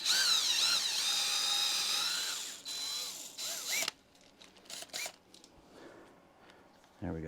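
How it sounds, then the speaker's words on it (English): A power drill bores a hole in a plant pot in a greenhouse, a loud, steady whirring burst lasting a few seconds that winds down, followed by quieter handling clatter and a brief final burst. "Drill a hole."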